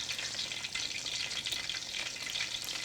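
Worcestershire-laced sauce sizzles and spits in a hot pan while being stirred, a continuous close, bright crackle with small fluctuating bursts and no voices.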